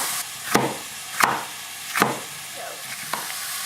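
Garlic frying in oil in a pan, a faint steady sizzle under several sharp scraping stirs or taps of a utensil.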